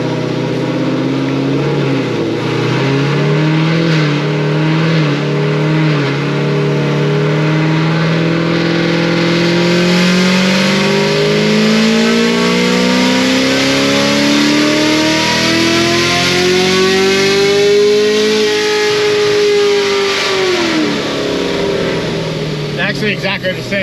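A Procharged LT1 Camaro engine revving in sixth gear, loud and close, the pitch climbing steadily for about twenty seconds before dropping off, with a voice speaking briefly over it.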